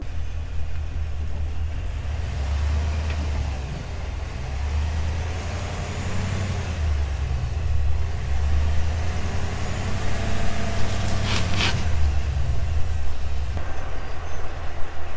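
A Cadillac Escalade drives off-road across a front yard, its engine a steady low rumble rising slightly toward the end, with occasional bumps and a brief sharp rattle near the close; no voices.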